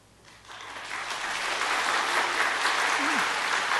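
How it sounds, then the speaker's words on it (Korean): A church congregation applauds to bless departing missionaries during Sunday worship, steady clapping swelling in after a quiet start and holding at full strength, with a brief voice rising near the end. "잠시 자리에서 일어나셔서 인사하실 때 박수로 축복하겠습니다."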